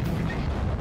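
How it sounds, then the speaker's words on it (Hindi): Wartime blast or gunfire in Ukraine, a heavy booming roar that fills the whole short moment, dense and loud with rumbling low end. "मशीन गनों की तड़तड़ाहट,"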